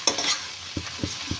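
Okra palya sizzles in a pan while a spoon stirs it, giving a soft steady fry under several sharp scraping knocks spaced through the clip.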